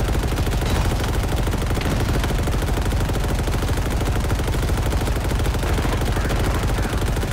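Rapid automatic weapon fire in the Halo Infinite campaign, a dense continuous stream of shots with no pauses, loud and close throughout.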